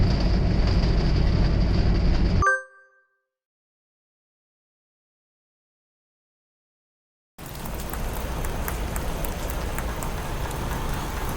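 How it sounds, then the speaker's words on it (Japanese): Rain falls on a small Nuts RV Jeepney camper van parked in a coin parking lot in Kyoto, a steady hiss of patter that drops into total silence for several seconds and then resumes just as evenly. "雨音が聞こえてすごい心地いいです。"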